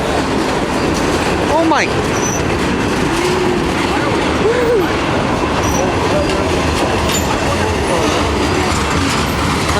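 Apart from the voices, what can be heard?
Norfolk Southern mixed freight train boxcars passing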